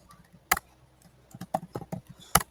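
Keys tap on a computer keyboard in a quick irregular burst of close, crisp clicks, with a couple of louder strikes standing out.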